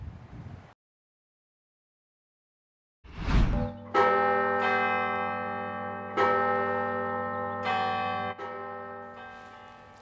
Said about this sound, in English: the bells at the University of Notre Dame ringing in celebration of the new pope